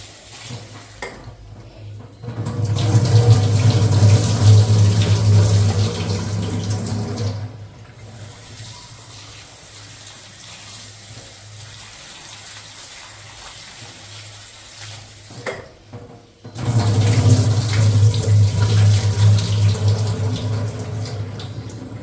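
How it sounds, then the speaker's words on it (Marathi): Fodshi, a muddy wild monsoon vegetable, is washed by hand under a running kitchen tap, with water gushing steadily in two strong bursts and softer splashing and rinsing between them, close up. "ही भाजी चांगली नळाखाली स्वच्छ धुवून घ्यायची 4-5 पाण्याने."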